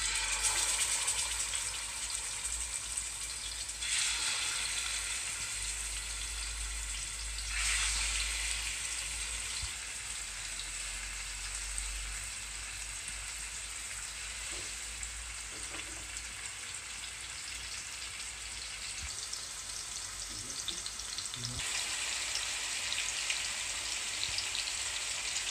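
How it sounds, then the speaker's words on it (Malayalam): Pieces of fish frying in hot coconut oil for Kerala-style pollichathu, a steady close sizzle and crackle that runs the whole time with brief louder surges, and no talking. "എണ്ണ ചൂടായിട്ടുണ്ട്, ഓരോരോ പീസായിട്ട് നമുക്ക് വറുത്തെടുക്കാം."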